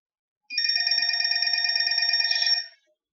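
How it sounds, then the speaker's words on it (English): A phone rings with a bright, rapidly trilling electronic bell in one continuous burst of about two seconds, loud and clear against silence. "Oh, phone's ringing."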